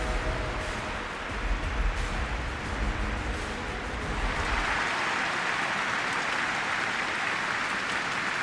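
A stadium crowd roars in a PES football video game before a Manchester United versus Colo Colo Europa League match, a broad continuous wash of cheering and clapping that brightens and swells toward the end, with no talking.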